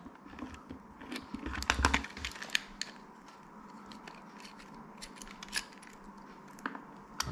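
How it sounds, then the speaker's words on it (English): A screwdriver works tight screws loose from an electric hook tier, producing close, irregular clicks, creaks and small scraping ticks with a few louder snaps, alone without talking. "the screws are screwed pretty tight, so you will need a good screwdriver, and let us remove"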